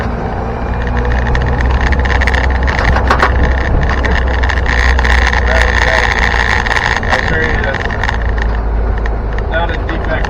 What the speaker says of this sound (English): And sorry about the rattling.